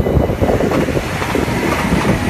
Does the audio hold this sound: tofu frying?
no